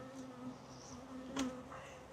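A steady, close buzzing of Buckfast bees droning continuously around a nuc hive, with a low hum throughout.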